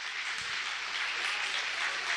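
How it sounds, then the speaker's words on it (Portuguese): A church congregation at a worship service applauds, a steady, even wash of clapping heard at a moderate distance with no voices over it. "Aplauda bem forte ao Senhor."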